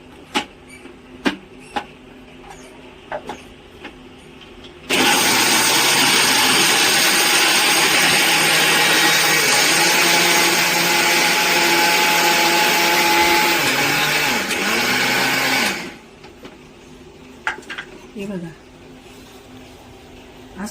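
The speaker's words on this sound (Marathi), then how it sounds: "आपल्याला मिक्सरमध्ये वाटून घ्यायच्या आहे हातानेही वाटतात पण एवढं काय बारीक होत नाही म्हणून आपण मिक्सरचा वापर करणार आहे" A kitchen mixer grinder grinds fried puris into powder, a loud, close, high-pitched whirring roar that runs for about eleven seconds, shifting slightly in pitch, with quieter clinks and knocks before and after.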